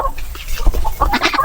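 Chickens peck and eat papaya nearby, giving short uneven pecks and scuffles with a few soft clucks over a busy background.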